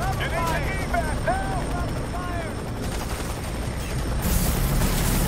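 Helicopter hovering overhead in the video game F.E.A.R. 3, a loud, steady rotor roar held throughout, mixed with game gunfire and radio-style voices talking over it.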